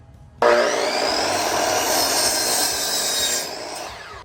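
A saw cuts through the end of a wooden fence picket in one continuous, fairly loud rasping stroke lasting about three seconds before easing off, with no talk.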